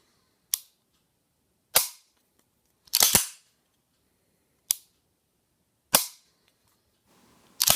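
A Para USA Elite Target 1911 pistol's trigger breaks and resets, producing about six sharp, close metallic clicks at irregular intervals, one of them a quick double click, with near silence between.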